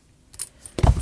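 Zippers on a Husky tool bag being pulled, two short rasping zips with a soft metallic jingle, close and brief against a quiet room.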